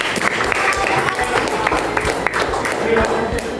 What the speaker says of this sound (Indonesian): Coba applause, tepuk tangan untuk Kesia